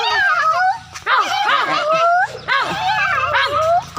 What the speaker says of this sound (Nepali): एउटा चाहिँ कुकुर कराइहाल्यो भ्याभ्या गर्दै